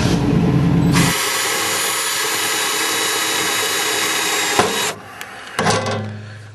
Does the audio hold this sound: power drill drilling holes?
yes